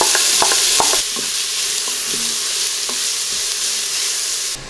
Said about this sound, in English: I'm gonna add about 2 tablespoons of vegetable oil, or canola oil, whatever you have, and saute the onions until they're brown.